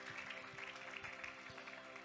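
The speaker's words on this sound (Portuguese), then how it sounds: "aplauda Jesus" Church congregation applauding during worship, a steady faint patter of many hands clapping in a rhythmic beat across the whole stretch, distant and soft.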